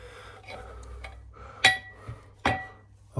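Metal brake components being set down on weighing scales, a couple of distinct hard clanks standing out above a quiet low background hum, with softer knocks in between.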